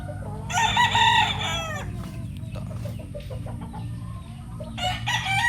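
A Paul Spark Grey gamefowl rooster crows loudly and close by, followed by soft clucking and low farmyard rumble, then another crow begins near the end.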